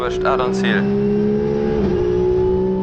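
A Porsche Carrera Cup race car at Spa-Francorchamps holds a loud, steady high engine note close by, with a brief rising rev and a small dip in pitch partway through.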